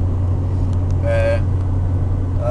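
Car driving along a road, a steady low engine and road rumble running throughout, with brief higher tones rising over it partway through.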